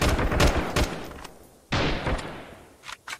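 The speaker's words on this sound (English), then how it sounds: "Now who's shooting at me?" Gunfire in the Freeman Guerrilla Warfare video game: rapid bursts of shots and sharp cracks, with a dense volley up front, a heavy report mid-way, and scattered single shots after, loud and close.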